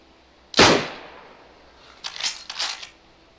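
Gunfire in a video game aimed at zombies: one sharp, loud shot, then a quick pair of lighter cracks a moment later, close and with no talk.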